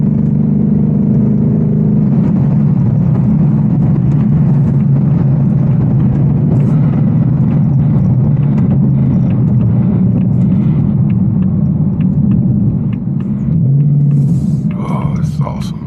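An 810-horsepower RTR Mustang GT rumbles steadily from inside the cabin while cruising, a loud, low engine drone that lifts briefly near the end, with faint voice sounds over it.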